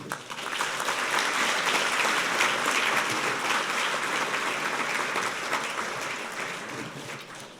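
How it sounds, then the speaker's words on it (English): A large audience applauding at the Pro Football Hall of Fame Awards of Excellence ceremony, sustained even clapping that swells quickly, holds for several seconds, and eases off slightly at the close. "How about another round of applause?"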